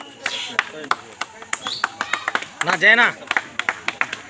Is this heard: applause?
yes